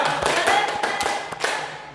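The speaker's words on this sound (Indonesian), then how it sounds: "kalau udah cukup beri tepuk tangan untuk kelompok 2" A classroom group claps for group 2, a burst of overlapping hand claps close and fairly loud, lasting about two seconds.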